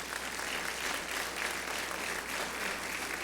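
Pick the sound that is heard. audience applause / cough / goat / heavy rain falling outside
audience applause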